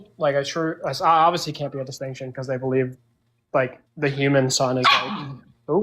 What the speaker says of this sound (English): that's my dog, sorry